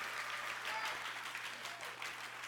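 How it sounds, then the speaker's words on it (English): An audience at a poetry event at Kennedy-King College applauds steadily, a dense, sustained round of clapping from a crowd filling the room at a fairly loud level throughout. "Give him another round of applause, please."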